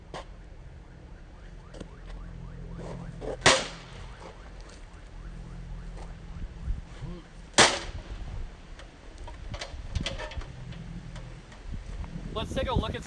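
A Lords of Battle Gothic steel war hammer strikes a thin 18-gauge steel knight helmet and a zombie head, two sharp loud impacts standing out from a quieter background of faint ticks and shuffling.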